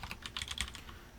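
Rapid keystrokes patter on a computer keyboard in a short, quiet burst, close by with no voices.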